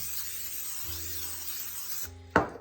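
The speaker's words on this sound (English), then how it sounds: "Greasing my pan." Cooking spray hisses in one steady, close burst for about two seconds as a cake pan is greased, then stops with a short clunk of the can or pan.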